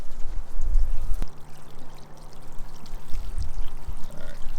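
Water gushes from a hose near a Miata in a steady, close pouring stream with uneven splashing surges and a brief click, and no one talks.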